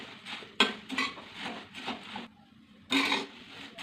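Puffed rice with cashews and almonds being stirred and roasted in a pan, close scraping and rattling strokes in irregular bursts with a short pause.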